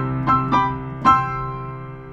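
Piano playing the closing chords of the 1990s Grange Hill theme, with three struck chords in quick succession, the last one held and ringing out, close and clear with no voices.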